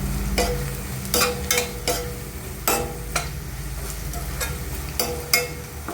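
Turmeric and coriander powder are stirred into a moong dal curry with spinach and eggplant in a pan, a soft sizzle under repeated scraping strokes and spoon knocks against the pan, close up with no talking.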